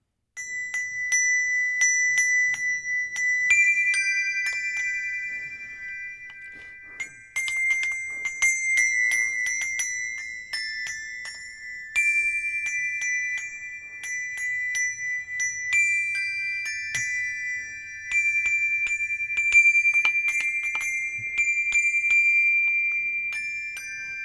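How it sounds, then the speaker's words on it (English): A handheld bell tree is struck in a series of bright, ringing metallic chimes, bursts of cascading tones that sustain and decay between strikes, close and clear with no talking. "So the bell trees are very popular right now."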